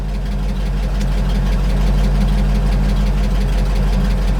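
A 1975 GMC C6000 truck engine idles close by, a loud steady low rumble with a continuous mechanical chatter and no voices.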